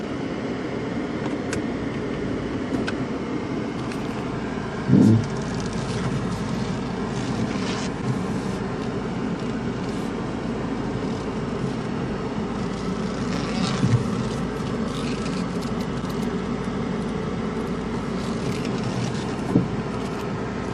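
A Chrysler PT Cruiser on a test drive gives a steady, loud interior drone of engine and road noise with rumbling low end and a few faint bumps and clicks along the way.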